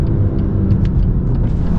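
A 2021 BMW M2 Competition with a manual gearbox driving along, its engine giving a loud, steady low rumble that fills the whole moment with faint ticks and road noise above it.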